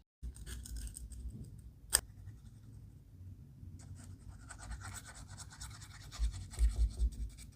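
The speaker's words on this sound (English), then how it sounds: "Next, I cut out the forehead to attach it to the background." Scissors snip brown paper to cut out a forehead shape for a quilling craft design, with quiet scratchy cutting and handling sounds, one sharp click, and a few soft thumps near the end.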